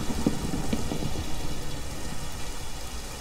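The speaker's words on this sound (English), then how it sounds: "God, do you hear that wind?" Storm wind roars steadily during a severe storm in the video game Minecraft, a dense, continuous rushing wash with rain-like hiss and low rumble, loud and unbroken throughout with no talking.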